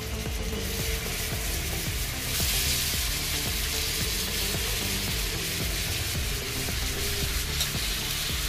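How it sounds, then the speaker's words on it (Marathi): Chicken pieces fry in a pan for butter chicken, giving a steady, dense sizzle throughout with faint scraping touches, close and even in level, with no talking. "आता हे चिकनचे एक एक पीस यात आपण सोडून याला फ्राय करून घ्यायचं आहे."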